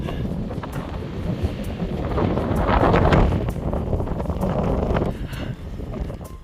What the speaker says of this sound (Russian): Денек такой ветреный, и так дует хорошо прямо.